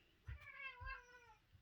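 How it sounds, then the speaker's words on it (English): Cats fighting let out a drawn, wavering meow-growl, a close caterwaul rising and falling over about a second, with a couple of thumps around it. "My cats are deciding that they need to fight."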